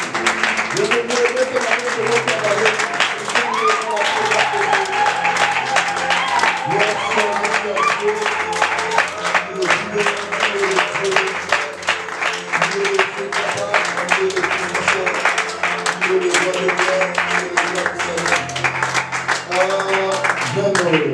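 A church congregation applauding and acclaiming God, with sustained clapping and voices from a crowd blending with music and singing throughout, continuous and fairly loud.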